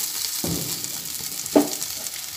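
Sesame frying gently in a pan with salt, a soft steady hiss broken by two brief utensil knocks, the second sharper and louder.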